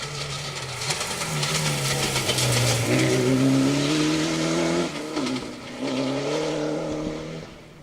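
A Mitsubishi Evo rally car on a gravel forest stage of the Cambrian Rally howls past close by, engine revving up through the gears, lifting briefly, then pulling away and fading.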